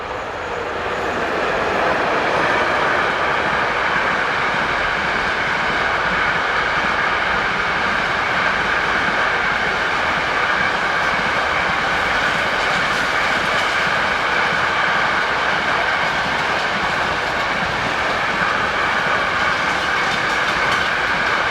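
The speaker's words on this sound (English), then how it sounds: "Here 240-106 heads south with this container train." A Class 240 locomotive built in the late 1960s hauls a southbound container train, a loud, continuous rumble and rolling clatter of wagons passing close by with no pauses.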